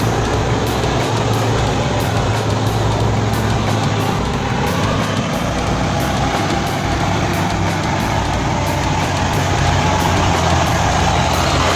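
Heavy logging truck loaded with timber and pulling an extra trailer, its engine laboring off-road as it works back onto the main road; a loud, steady diesel drone with rumbling low end throughout, no voices.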